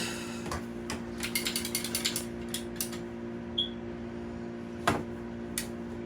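A ratcheting tubing cutter clicks through CPVC plastic pipe, a quick series of soft close ratchet clicks at a steady pace, then a few isolated clicks over a low steady hum, with no talking.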